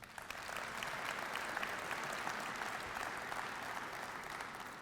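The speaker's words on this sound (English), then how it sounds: "let's give them a big round of applause" Sustained audience applause fills the room at a school superintendents' honoring ceremony, a steady, dense clapping that holds evenly for several seconds without voices on top.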